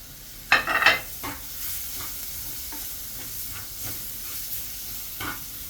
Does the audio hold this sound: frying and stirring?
yes